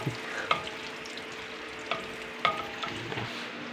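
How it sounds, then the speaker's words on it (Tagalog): Shrimp with garlic frying in butter in a home pan, a steady soft sizzle with a few sharp stirring clinks and pops now and then, close and fairly quiet. "naglagay na kami ng butter. Sisimulan na lutuin ng aking mama."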